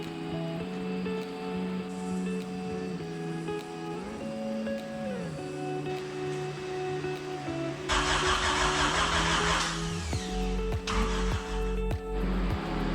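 A Honda Civic's motor being turned over as an engine starts, with a steady idle hum that shifts pitch before a louder, rougher burst of revving near the end, no talk.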